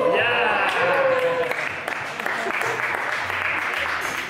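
Applause and cheering rise in a restaurant during a competitive eating burrito challenge, a strong burst of clapping with excited voices and a rising whoop at the start, then settling into steady clapping under murmured crowd noise.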